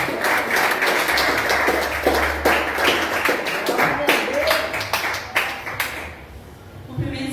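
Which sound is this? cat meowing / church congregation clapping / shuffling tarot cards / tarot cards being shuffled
church congregation clapping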